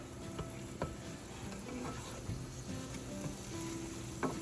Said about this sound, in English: It doesn't take long to fry an egg.